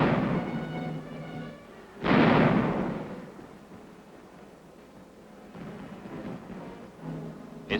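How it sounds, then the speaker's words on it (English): Korean War artillery bombardment, with deep booming blasts and rumbling, one heavy detonation standing out before further thuds and a sustained low roar on an old, noisy recording. "the bombardment proceeds to soften up the Reds"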